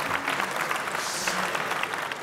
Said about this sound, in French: On peut peut-être l'applaudir un petit peu.